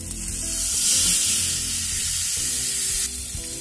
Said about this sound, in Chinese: 牛排下锅后，要听到滋的一声